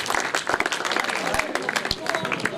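Audience applause greets a guest arriving on a Pakistani talk-show stage, a dense patter of many hands clapping steadily for a few seconds, with some voices mixed into the crowd noise.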